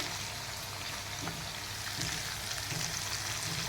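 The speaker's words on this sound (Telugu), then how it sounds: "ఐదు ముక్కలు ఫ్రై అండి ఫ్రై చేస్తున్నాను" Fish pieces fry in a pan for a curry, making a steady, moderately loud sizzle with faint spattering and occasional scrapes, no talk.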